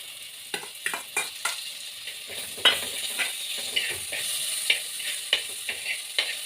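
Tomatoes hit frying onions with a quiet, steady sizzle, while a spoon stirs the pan and makes repeated sharp taps and scrapes.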